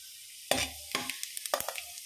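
Cumin seeds dropped into hot oil in a kadai burst into a sharp sizzle, followed by two more crackling bursts and a string of quick light pops, close and without talk.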